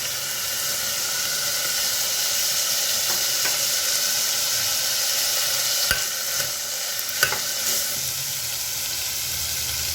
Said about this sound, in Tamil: இப்போ பயிர் போட்டு நல்லா கிண்டிட்டோம்